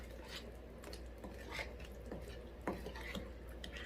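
Buttermilk gingerbread batter is stirred by hand in a bowl with a utensil, giving soft, quiet scraping and light clinks in an irregular rhythm, with no talk.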